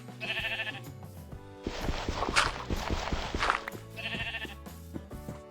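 Two short sheep bleats in Minecraft, one at the start and one near the end, with busy clopping footsteps and shuffling in between.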